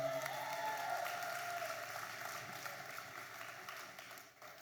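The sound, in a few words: applause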